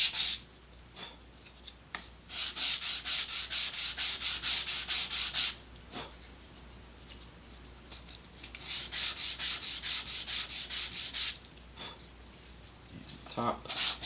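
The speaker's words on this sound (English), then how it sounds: "I am going to again sand off the burrs." Sandpaper rubs the burrs off freshly cut model rocket fins for an Estes BOSS build, in two long bursts of quick back-and-forth strokes, close and clear, with brief pauses and small handling taps.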